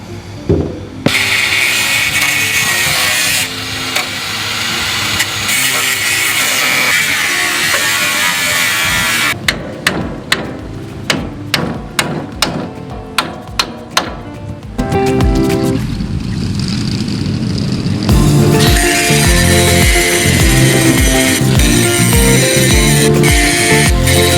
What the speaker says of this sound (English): I'm going to cut these brackets off here so we can fit those to the new piece.